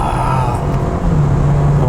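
A BMW 420i convertible with an 8-speed automatic pulls hard in sport mode, its engine a loud, close, sustained drone that climbs in pitch as revs rise, with a voice briefly heard over it.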